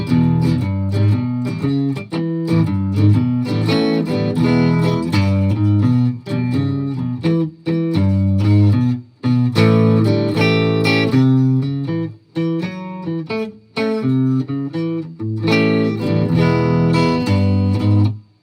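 An electric guitar plays a distorted, effected phrase of picked notes and chords with brief pauses between them, loud and close.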